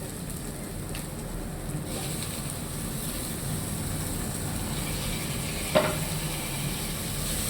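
Golden onions and tomato sautéing in a pan for chicken curry, a steady quiet sizzle with one brief clink of a utensil partway through.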